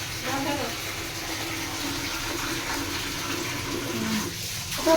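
Leo getting a bath, with steady running and splashing water throughout, moderately close, and a faint voice underneath.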